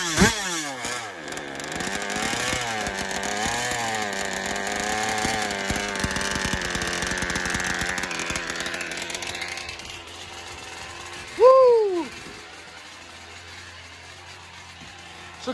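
A new BR34cc piston engine, still being broken in, idles with a loud, steady buzzing drone that wavers slightly in pitch, then cuts out and is followed by a short rising whine and quieter background noise.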